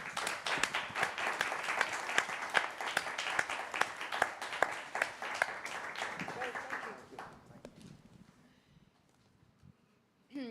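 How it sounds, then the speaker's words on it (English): An audience at a research pitch event applauds three PhD students, moderate steady clapping for about seven seconds that thins out, followed by quiet and a soft voice. "please join me in a round of applause to the 3 PhD students"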